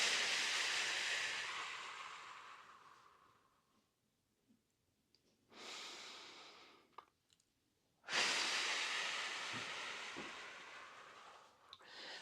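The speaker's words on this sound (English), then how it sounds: "Deep breathing." Deep breathing during a rest between strength exercises: a long, loud hissing exhale fades away, then after a pause come two more strong breaths, one short and one long, with faint clicks in between.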